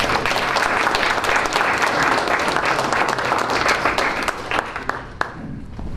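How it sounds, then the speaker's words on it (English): Board members and audience at a Lee County School Board meeting give a round of applause, dense close clapping that holds steady and then thins out toward the end with a few last claps. "Let's give him another round of applause."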